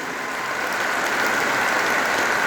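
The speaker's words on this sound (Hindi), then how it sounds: "एक बार दशरथ माता की सम्मान में जोरदार ताली हो जाए" Crowd applause at a teachers' meet-up in Patna honouring Dashrath Manjhi, a dense, even roar of clapping that holds steady from start to finish without talk, heard from a moderate distance.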